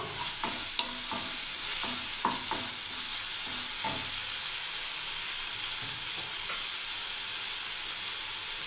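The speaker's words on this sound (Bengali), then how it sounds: "এবারে বন্ধুরা দেখুন আদার পেস্ট আমি দিয়ে দিচ্ছি বন্ধুরা" Ginger paste sizzling and frying in a pan for a mug dal kofta curry, with a spatula scraping and stirring in a cluster of clicks early on, then a steady close hiss that runs on alone.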